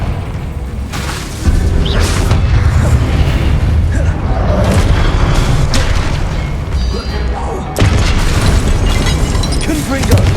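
Repeated blasting-spell explosions in the video game Hogwarts Legacy, heavy booming bursts with deep rumbling tails that fill the space, a second big blast landing partway through, with battle noise around them.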